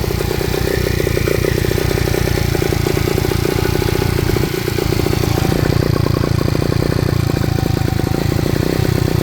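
A 1972 Honda CT90 motorcycle engine idles steadily and loudly up close, with a rapid, even putter and some mechanical clatter throughout.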